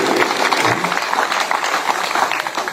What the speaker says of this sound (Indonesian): Tepuk tangan dulu untuk Rindi.